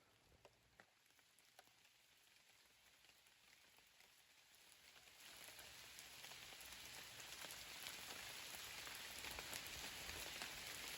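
Rain pours down steadily, a dense hiss of drops on surfaces that grows noticeably heavier and louder partway through.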